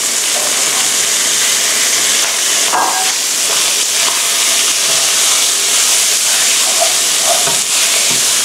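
Long beans tossed into a wok with pork and red curry paste for a Thai stir-fry, giving a steady loud sizzle and hiss with occasional scraping stirs throughout.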